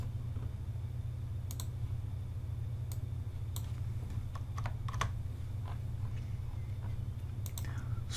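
A computer keyboard and mouse are used for quick shortcut presses such as select-all and paste, with scattered light clicks and key taps over a steady low hum, close and quiet, no talking.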